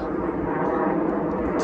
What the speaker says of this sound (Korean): 비행기 소리가 매치가 안 되잖아